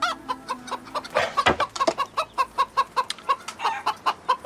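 A chicken clucks over and over in a quick, regular rhythm, close and clear, with a brief rustle partway through.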